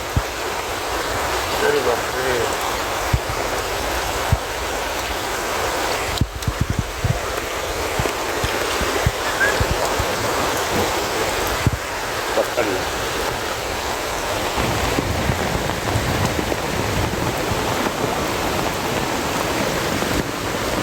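Heavy monsoon rain falls in Konkan while a flooded river runs high, a dense continuous hiss and roar at steady loudness throughout, with occasional faint knocks.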